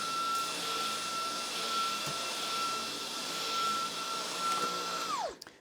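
A Roborock H6 stick vacuum's motor runs at a steady high whine with broad airy hiss, close and continuous, then winds down sharply at the end.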